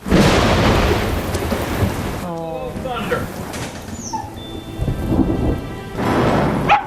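A movie thunderstorm: heavy rain hisses loudly while thunder rumbles and rolls through, with a voice speaking briefly partway through.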